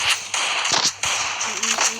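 Sharp gunshots in a shooting video game, several quick cracks in uneven bursts, loud and close with game sounds between them.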